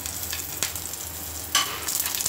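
Green chilies roast in hot oil in a pan after mustard seeds have popped, a steady close sizzle with a couple of sharper crackling bursts and light stirring, no talking.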